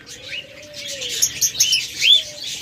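A diamond dove gives a thin, drawn-out tonal call twice amid a cage of small birds chirping and tweeting in quick bright bursts, all close and clear with no talking.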